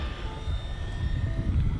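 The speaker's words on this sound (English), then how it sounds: "So this helicopter can fly in wind" An Eachine E130 RC helicopter flies outdoors in wind, its small motor and rotor giving a steady whirring drone over heavy, low wind rumble buffeting the microphone.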